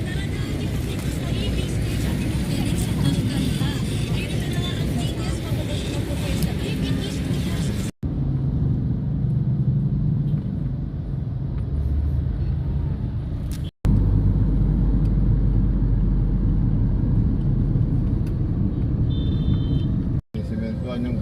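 A moving passenger bus on a road out of Agno gives off a continuous low engine rumble and road drone heard from inside, with someone talking over it and abrupt brief cuts.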